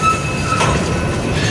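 Train rolling through the rail diamond at Fremont, Nebraska, with a steady rumble and a faint high wheel squeal, one continuous pass at moderate distance.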